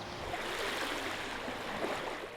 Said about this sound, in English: Behind me in the lake there's a very large stormwater drain that flows into Brimner Bay.